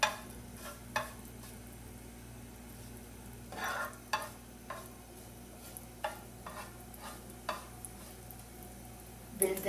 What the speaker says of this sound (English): And we are going to roast it